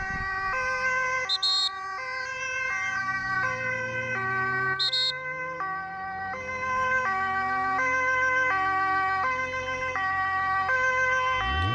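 Ambulance siren escorted by Dutch police, a loud two-tone wail cycling steadily and close by, with two short high electronic chirps early on and a low vehicle rumble underneath.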